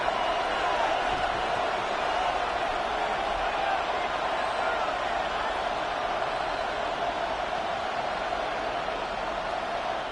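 Stadium crowd in an EA Sports football video game, Commanders vs Titans, on a tied third down late in the game: a loud, dense, unbroken roar filling the whole stretch.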